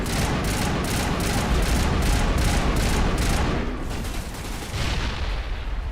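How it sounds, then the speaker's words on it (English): Video game combat erupts with a dense barrage of blasts and rapid gunfire-like bursts, loud and continuous, rolling into a heavy explosion. "There, that explosion got him."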